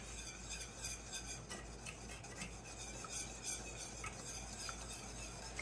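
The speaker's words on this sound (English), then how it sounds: "I'm not going to leave it on long because I want to be able to stir it pretty often." Cooked butter icing is stirred in a pot on the stove, a faint, soft repeated scraping and rubbing of a utensil against the pan under a low hum, without talk.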